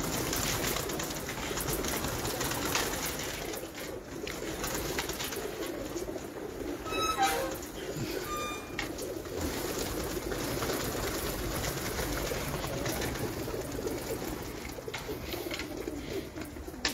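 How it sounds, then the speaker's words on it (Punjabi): Pigeons kept by a pigeon fancier coo softly amid a steady, noisy background hum, with a few brief chirps standing out near the middle. "ਇਹ ਲੱਖ ਆ ਕਬੂਤਰ ਜੀ, ਇਹ ਉਹ ਕਬੂਤਰ ਮੈਂ ਦਿਖਾ ਰਿਹਾ"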